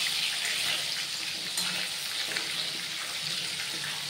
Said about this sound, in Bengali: চলো এগুলো মাছগুলো ভেজে নিই